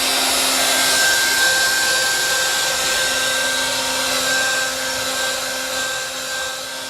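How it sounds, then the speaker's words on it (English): A heat gun blows steadily while heating a floorboard and R-Blox material, giving a continuous, close, even airy roar with a faint high whine that hardly changes over the whole stretch. "I'm going to start heating again both the floorboard and the R-Blox"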